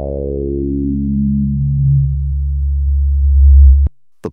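A Roland Juno synthesizer plays a sustained low bass tone through its filter, with the bright upper harmonics steadily closing down into a deep, thick drone before it abruptly cuts off, followed by two brief clicks.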